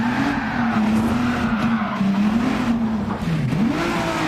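A modified Peugeot 205 in Gran Turismo 7 drones steadily at close range, its engine tone holding level, then dipping and climbing again near the end, with a faint hiss of tyres underneath.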